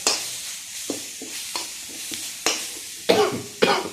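Shallots stir-fried in a pan for a Thai chicken curry with glass noodles: a low sizzle broken by repeated scraping strokes of a spatula, close and without talk.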